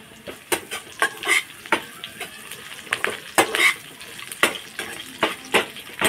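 Crushed garlic and curry leaves fry for tomato rasam in a pan, sizzling close with repeated scrapes and clinks as a spoon stirs, and no talking is heard.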